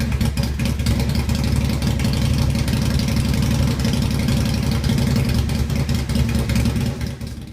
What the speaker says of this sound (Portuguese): o carro recebeu eixos de corrida, pneus especiais e um motor 4 tempos de 500 cilindradas